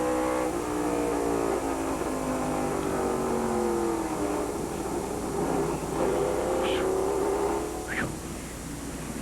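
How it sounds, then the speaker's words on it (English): Onboard sound from a NASCAR Busch Grand National race car during the 1997 BellSouth Mobility / Opryland USA 320, its engine droning loud and continuous with shifting pitch at close range, without talk. "So if this looks like a fun occupation to you, try this from Phil Parsons' car"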